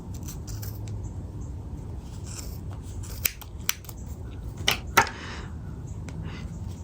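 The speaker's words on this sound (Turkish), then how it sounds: "Sonra diğer tarafı kesiyorum." Scissors cut yarn for a pompom star pillow, giving a few sharp, close snips in the middle of the clip over a quiet rustling background.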